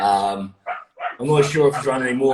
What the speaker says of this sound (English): You can probably hear my dog in the background causing havoc